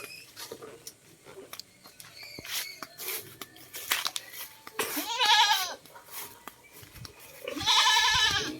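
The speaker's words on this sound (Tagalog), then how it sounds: "may kambing ditong naligaw" A goat bleats twice, loud and nearby, amid rustling and scattered clicks, the second cry longer and more wavering.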